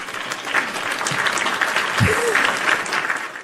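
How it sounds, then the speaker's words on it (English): A studio audience and hosts give a steady round of applause for traders during a live trading and analysis stream, the clapping dense and continuous with some voices mixed in. "Let's give these guys a round of applause for laying it on the line for us."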